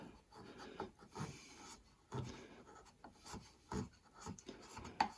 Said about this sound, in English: I'm taking off minimal with that chisel